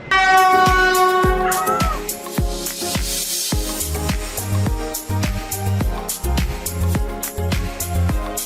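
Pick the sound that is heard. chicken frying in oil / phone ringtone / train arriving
train arriving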